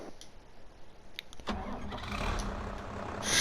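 A small farm tractor engine starts up in Farming Simulator 22: a click and brief crank, then the motor catches and settles into a steady mid-pitched idle that swells slightly louder toward the end.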